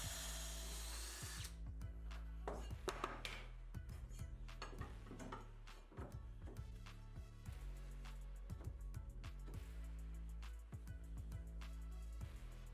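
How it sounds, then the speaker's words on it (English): A power drill bores a hole through a ceramic tile for a copper pipe, set in a plywood jig, grinding with repeated sharp gritty bursts and scraping clicks at close range, after an opening stretch of steady high whirring. "drill bit to cut a hole around my copper pipe"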